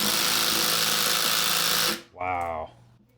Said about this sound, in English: Now is the time to go ahead and use the impact.